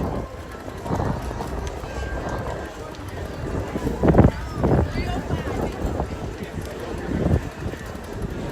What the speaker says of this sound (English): it's very breezy down here on Main Street